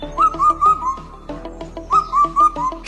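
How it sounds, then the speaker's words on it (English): Four-note cuckoo calling, clear whistled phrases of rising then falling notes, repeated twice with a short pause between, close and loud against a quiet background. "This is a four-note cuckoo."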